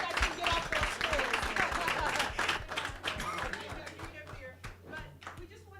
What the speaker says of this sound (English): Give our panelists, please, a round of applause